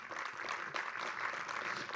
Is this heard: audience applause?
yes